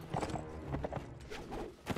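Horse hooves clop quickly and close in the Mount & Blade Warband game, a short burst of dense, overlapping hoof strikes.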